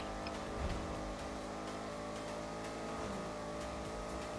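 A Baller ST-D SUV is driven along the road in GTA V Online, and its engine drones in a steady, fairly quiet hum with slight revving and no speech.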